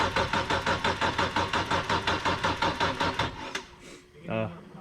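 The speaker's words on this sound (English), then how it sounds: "We need more power. It's not cranking fast enough." A BMW E46 M3 engine cranks slowly on a weak battery, with an even, labored whirring pulse repeating about four times a second for over three seconds before stopping, followed by a brief clunk.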